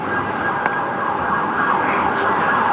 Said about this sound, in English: Why do they have the sirens on at 3 a.m.?